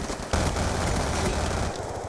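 Burst gunfire from the Black Ops II multiplayer game, a sudden loud onset of dense rattling shots that keeps a sustained roar for most of the clip, with no speech.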